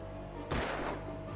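Gunfire in Alan Wake: two loud, sharp shots, the first followed by a brief decaying boom and the second arriving just under a second later, over a steady low background hum.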